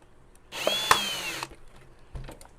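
A power drill drives a screw into a half-gallon plastic milk jug being made into a quail and chick feeder, one close whirring burst of about a second with a rising whine, then quiet handling clicks.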